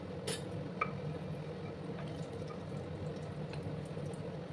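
A bay leaf in a little hot oil in a wok gives a faint, steady sizzling hiss, quiet and even throughout, with a couple of tiny clicks and no voices.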